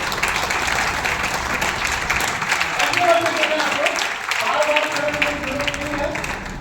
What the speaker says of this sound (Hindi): एक बार आप सभी लोग जोरदार तालियों से उनको धन्यवाद अदा करें